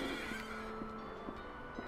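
A horse neighs in Silent Hill 3 at an amusement park, a faint, distant whinny under a steady low hum and a repeating mechanical clunk.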